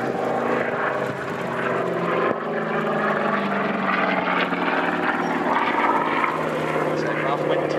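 An American WWII fighter passes overhead at the Duxford D-Day airshow, a loud sustained propeller-engine drone that swells and holds steady for several seconds while a commentator talks over it.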